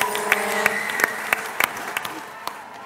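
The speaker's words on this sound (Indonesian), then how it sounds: "Berikan tepuk tangan yang meriah" Audience applause for the next contestant on an Indian drama series stage, a brief steady patter of clapping with a few sharp louder claps standing out.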